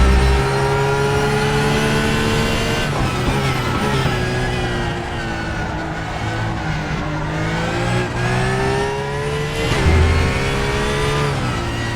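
A race car in the RaceRoom racing game revs hard with rising and falling engine pitch through gear changes as the rear slides into a drift, loud and continuous with no talk.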